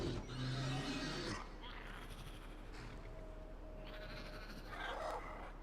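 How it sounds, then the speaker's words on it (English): A horse neighs in a modded Skyrim game, a harsh whinny up front followed by fainter whinnying later, mixed with game ambience and other bleating-like calls. "Is that a random horse?"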